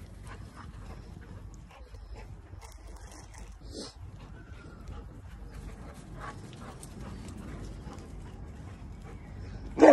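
Husky dogs running and playing outdoors after being let out of kennels, with scattered soft whimpers, pants and scuffling movement close by over a steady low background, ending in a sudden louder burst.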